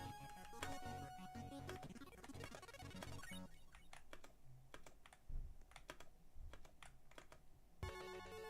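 Mechanical keyboard keys clacking during a Roblox obby game, with irregular bursts of quick keystrokes over faint game music and tones, sometimes dense and sometimes sparse, heard close.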